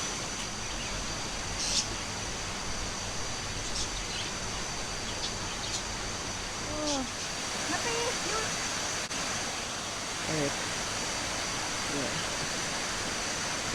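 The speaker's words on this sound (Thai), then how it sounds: "ก็จะเห็นน้ำตกแบบนี้" A waterfall at a resort pours in a steady, broadband rush that fills the whole clip at an even level, with a few faint bird chirps rising above it near the end.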